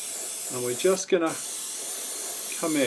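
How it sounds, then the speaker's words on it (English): A trigger airbrush sprays white paint onto a 3D-printed Star Wars Y-Wing model, giving a steady close hiss that runs under a few brief spoken words. "I switched over to a trigger airbrush because it's just so big"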